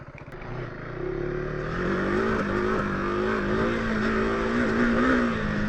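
A KTM 390 Adventure R single-cylinder motorcycle revs and pulls hard off-road through deep ruts, its engine note rising and falling steadily, close and fairly loud with no talk.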